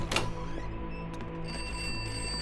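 A telephone ringing in the Pineview Drive video game, a short bright ring near the start followed by a faint ringing tone over a steady background hum.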